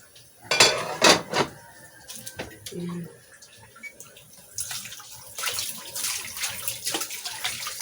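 Water splashing and dishes clinking in a kitchen sink as carne norte is rinsed before cooking, with irregular splashes and clatter that start close and loud, then settle into steadier running-water sounds.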